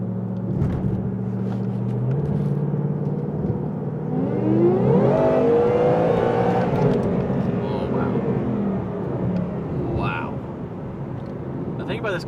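800-horsepower Whipple-supercharged 2018 Ford Mustang accelerating on the road: a deep, rumbling engine drone with a rising supercharger whine that climbs in pitch midway, heard from inside the car under intermittent conversation.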